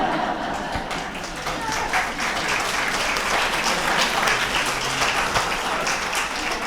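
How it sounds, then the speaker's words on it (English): Audience at an eldercare community gathering applauding after a poem reading, steady dense clapping that is close and fairly loud throughout, with faint voices mixed in. "her poem got some applause like that"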